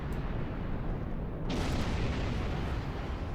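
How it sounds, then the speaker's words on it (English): A ship explodes in the space combat game Star Trek Online, a dense roaring blast that swells and rumbles steadily over a few seconds with no sharp attack. "he flew right into that explosion"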